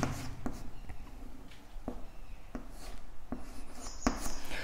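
Pen or chalk writing out a limit calculation in a continuity and differentiability math exercise, heard as faint, close scratchy strokes with a few sharp taps spaced across the passage.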